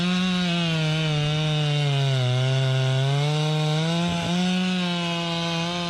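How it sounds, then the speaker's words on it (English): A Stihl chainsaw cutting through a large tree, its engine screaming loud and steady close by, pitch sagging briefly under load mid-cut before recovering. "Stihl chainsaws are specially designed to handle the demanding task of cutting down large trees."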